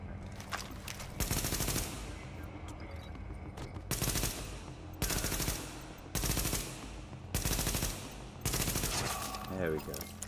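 Sniper rifle fire in the video game The Division, heard as a run of loud, sharp gunfire bursts in quick succession, close and dense, with a brief pause between volleys and a speaking voice underneath.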